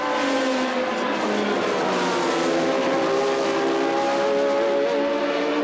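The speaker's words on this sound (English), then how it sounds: "the turbocharged Renault of Jacques Laffite, who is closing up on and will soon have to lap a tail ender" Turbocharged Formula One cars at the 1981 Austrian Grand Prix, a close, loud, continuous engine whine at high revs with shifting pitch as the cars pass, heard without talk.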